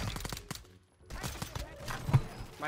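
Gunfire in the Call of Duty Warzone 2 video game, a few sharp shots in a brief burst under excited talk from players over voice chat.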